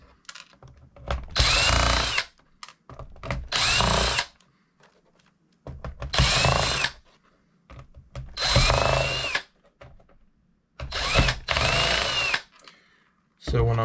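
A power drill strips screws from a laptop being scrapped, about six loud, close bursts of whirring, each a second or two long, separated by short pauses with faint handling noise.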